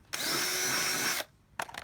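A power drill bites into a homemade lawn mower mulch cover, one loud steady whir lasting about a second, then a short burst of rattling clatter after a pause.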